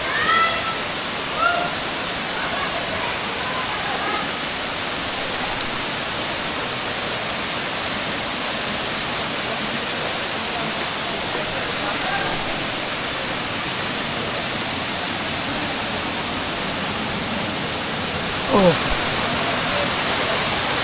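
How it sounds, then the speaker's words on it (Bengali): Shoingong waterfall, reached after a hard trail, sends out a broad, constant roar of falling water that fills the scene from start to finish, with brief, faint bumps of nearby activity. "এই হইতেছে সুইনগং ঝর্ণা।"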